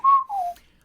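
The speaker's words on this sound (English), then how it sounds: "Huorang whistles." A short two-note whistle from the video game character Huorang, clear and close, the first note level and the second gliding downward, alone without talk.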